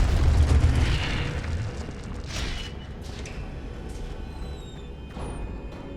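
An Incendio fire spell cast in Hogwarts Legacy, a deep booming burst that starts loud and rumbles, then tails off into a crackling, fading roar with faint high whooshes.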